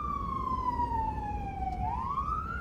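A wailing rescue-service vehicle siren in Bukovina, Ukraine, sweeps steadily down in pitch, then abruptly rises again, heard at a moderate distance over a low traffic rumble.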